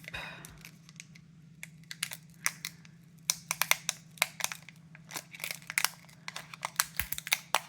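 Crinkly plastic foil of a trading card booster pack being peeled and torn open, a quiet stream of close crackles and snaps growing busier toward the end over a low steady hum.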